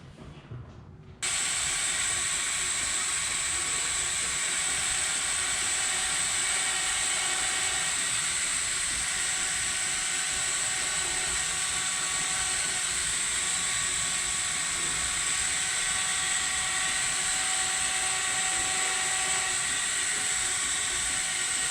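A machine polisher runs steadily through refining paint-correction passes on an Audi TTS, a continuous whirring drone that holds close and loud for the whole stretch after a brief quieter start, with no talking.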